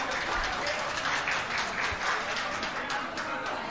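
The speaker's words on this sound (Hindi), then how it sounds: "तो इन दोनों का ही जोरदार तालियों से स्वागत कीजिए।" An audience at a televised public forum in Chhindwara claps to welcome guests, a dense steady applause that holds evenly throughout with some background voices.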